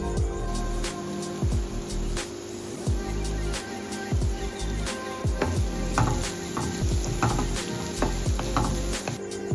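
Onions, green chillies and curry leaves sautéing in a pan, with a soft sizzle under repeated sharp knocks and scrapes of a spoon stirring against the metal.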